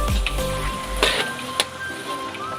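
Chicken and oyster sauce sizzle steadily in a hot pan while being stirred, with a couple of brief utensil scrapes and clicks over the continuous frying hiss.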